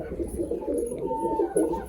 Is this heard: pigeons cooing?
yes